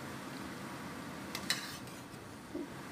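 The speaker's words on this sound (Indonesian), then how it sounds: "teruskan menggoreng aduk sambil ditekan-tekan sampai luarnya itu garing" Soft stirring and scraping of a utensil pressing sweet potato balls frying in a pan, with a faint sizzle and a couple of light clinks.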